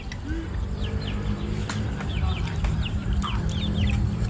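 Chickens cluck and chirp in short, scattered bursts against a steady outdoor background hum, moderately close and with no talking.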